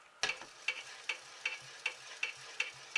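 Essential oil blend being stirred into soap batter, a regular series of light clicking taps as a utensil hits the container roughly every third of a second, close and quiet with no talk.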